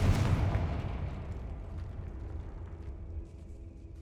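A Confringo fire spell explodes in Hogwarts Legacy, a heavy booming blast at the start that rolls off into a long rumbling decay and fades over several seconds.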